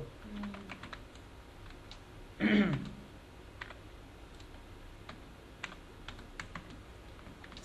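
Typing on a computer keyboard: steady soft key clicks with a brief louder flurry partway through, close and fairly quiet, with no talking.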